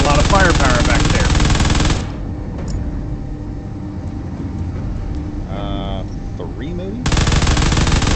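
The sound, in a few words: gunfire and missiles in a video game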